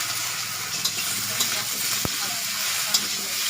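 Chopped okra (bhindi) tossed into a hot spiced pan crackles and sizzles steadily, with occasional stirring clinks and one sharp knock, close up and with no voices.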